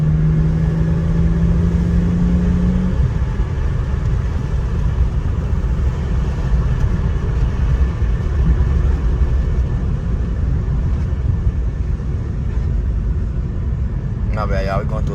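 Interior of a used project car bought for $4000 with a suspected brake sensor fault, a steady loud engine and road rumble while driving, a brief whine early on and a faint chime near the end.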